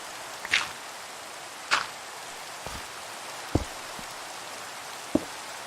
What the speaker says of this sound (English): And as usual on my server, it is raining.